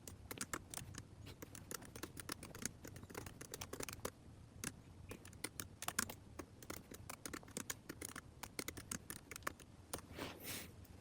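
Rapid, steady typing on a computer keyboard, soft close key clicks in an uneven stream with occasional heavier strokes, quiet and alone with no talking.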